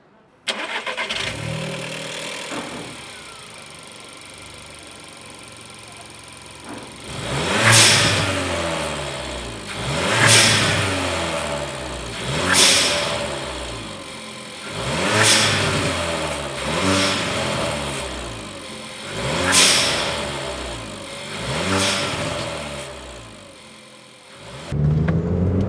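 A car engine with a 1.2 TSI and newly installed blow-off valve cranks and catches, then revs repeatedly in strong, evenly spaced bursts over a steady idle, loud and close.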